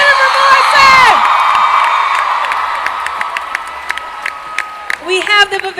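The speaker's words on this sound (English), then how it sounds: "Please keep your applause going for the beautiful and newly dark Emma Swan, Jennifer Morrison." A Comic Con panel audience claps, cheers and whoops loudly, and the noise fades as a presenter's amplified voice speaks over it.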